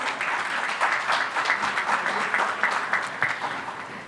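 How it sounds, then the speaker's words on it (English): Audience at a corporate business summit applauding, a steady, fairly loud wash of clapping with a few distinct claps, fading slightly at the end. "can we please have a huge round of applause?"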